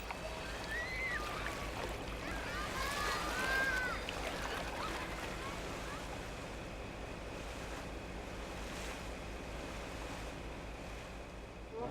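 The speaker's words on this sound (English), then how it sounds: "Our boat slowly leaves for Moscow." A passenger boat moves off along a canal toward Moscow on a hot summer day, with a steady wash of water and engine rumble under wind noise and a few faint distant calls.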